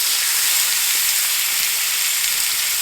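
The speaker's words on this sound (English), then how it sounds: "I'm just going to sear it first." A roast sears in a hot pan before going into a crock pot, giving a loud, steady, unbroken sizzle and hiss throughout with no talking.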